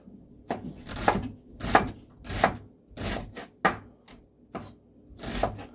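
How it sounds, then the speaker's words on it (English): A knife chops an onion finely on a board in a home kitchen while pasta e fagioli is being prepared, landing about nine close, crisp strikes in an uneven rhythm with brief pauses between them and no voices. "So I chop it that way first, and then I slice it in the center"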